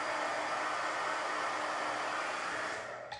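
A hair dryer blows steadily to dry freshly made Chalk Couture chalk paste, giving a loud, continuous close-up whoosh that holds evenly before cutting off right at the end.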